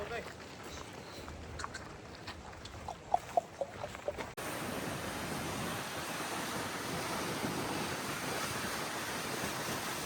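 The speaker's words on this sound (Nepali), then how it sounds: "हावा मजाले लागेछ" Wind gusts across the shore at Lake Whitney, a strong steady roar of wind noise that takes over after a few seconds of quieter outdoor sounds with light knocks.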